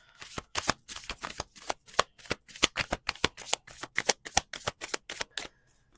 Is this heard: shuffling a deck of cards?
yes